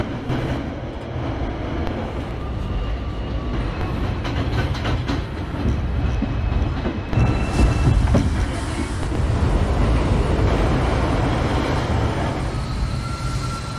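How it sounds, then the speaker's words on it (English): A simulated NYCT R142 subway train on the 3 express line in Trainz 2019 runs along the track, a continuous rumbling clatter that swells and grows louder midway, with no voices. "This is a Brooklyn-bound 3 express train."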